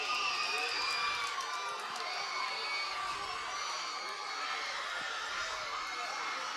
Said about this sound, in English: What a great crowd here tonight.